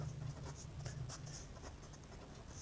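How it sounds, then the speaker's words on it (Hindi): Pen or chalk scratches faintly in short, quick strokes while figures are written out during a maths lesson, close but quiet with no talking. "तो इसी प्रकार से हम यहाँ लिखेंगे"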